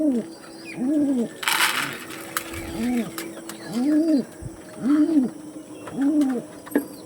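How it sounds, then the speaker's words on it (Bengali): Pigeons coo close by in a steady rhythm, five or six soft rolling calls repeating one after another, with a brief flutter of rustling. "অনেক দিন পরে এই কোয়ালিটির পায়রা পেলাম"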